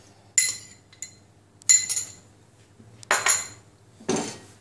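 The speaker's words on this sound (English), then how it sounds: "Then you stir it." Glass noodle salad with sauce and groundnuts being stirred in a bowl, four separate bursts of clinking utensil scrapes against dishware, close and clear, with no talking.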